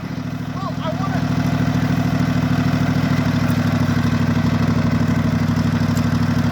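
A janky lawnmower engine drags logs outdoors, holding a loud, steady, close-up chugging drone throughout, with a faint chirp early on.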